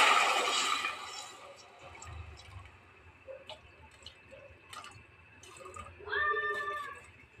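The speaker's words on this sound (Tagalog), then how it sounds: "Lagyan natin ang tubig." Water is poured into a pan of scorched, sautéed bottle gourd with glass noodles, giving a brief loud splashing hiss. The pan then settles into quiet simmering, with scattered clicks and a short tonal call near the end.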